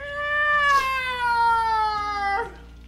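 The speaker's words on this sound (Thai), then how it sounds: "แมวร้องนะเมื่อกี้" A cat gives one long, drawn-out meow, close and clear, with a faint low hum behind it.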